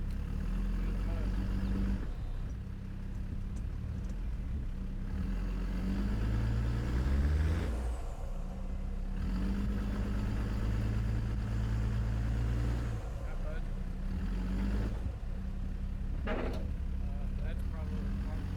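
A 4x4 truck spinning its tires in deep mud on a Grand Mesa National Forest trail, its engine droning and revving steadily while the wheels churn, with people talking over it.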